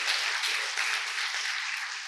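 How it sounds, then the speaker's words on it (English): Steady applause fills the hall at the opening of an ANALYST-2025 program with a chemistry talk, a dense wash of clapping hands at even volume from start to finish. "A clap, please."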